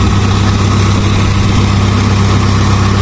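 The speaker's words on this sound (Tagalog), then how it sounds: "Oh, bau pala yung makina ng Mica" A fishing boat's motor runs at a steady idle, a loud, close, low rumbling drone that holds an even pitch throughout with no voices over it.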